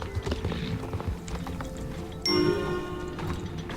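Video game horse hooves from Star Stable Online clip-clop at a steady trot over a busy background, followed by a sustained bright chime-like tone near the end.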